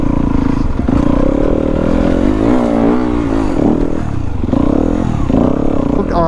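A 2019 Yamaha WR250F dirt bike with an FMF exhaust runs loud and close, its engine revving up and down in wavering surges with some mechanical clatter, and a voice speaks briefly over it.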